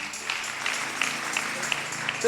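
Church congregation clapping during a Sunday service, a soft patter of scattered applause heard faintly under a room full of voices and background noise.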